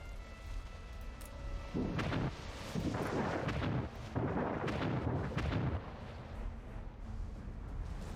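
Ship under cannon fire in ANNO 1800, a run of deep rumbling booms and crackling blasts rolling for several seconds, moderately loud and then fading to a low ambient wash.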